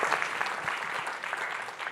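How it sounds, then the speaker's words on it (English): Applause at a morning session of a local government retreat, dense and steady throughout, like a roomful of people clapping together at moderate loudness. "Please give applause to Yunus."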